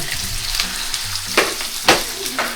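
Chicken skin fries in a pan, rendering its fat with a loud, steady sizzle. A few sharp scraping stirs cut through near the end.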